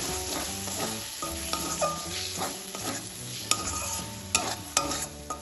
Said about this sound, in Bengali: সবকিছু তেলে ভালোভাবে কষিয়ে দিই